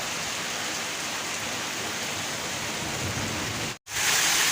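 Heavy rain pours down steadily, a dense, loud hiss that continues almost unchanged, drowning out other sounds, with water running through the streets, and is briefly interrupted by a short dropout near the end.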